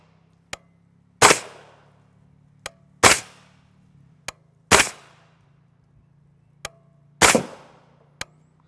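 Suppressed 8.6 Blackout rifle firing subsonic 300-grain copper solid rounds, four dull muffled reports spaced a second or two apart, each followed by a faint sharp ring of the bullet striking distant steel, with a low steady hum beneath.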